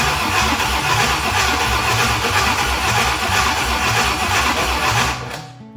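A 1965 Ford Thunderbird's FE 390 V8 cranking on its starter without firing, a loud, steady rhythmic churning that runs for about five seconds and then cuts off.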